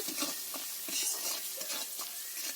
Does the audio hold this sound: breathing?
no